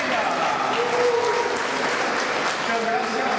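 Audience at a senior citizens' choir recital in a Bogotá neighborhood applauds the local community council, loud sustained clapping from many hands with faint voices and a few cheers mixed in.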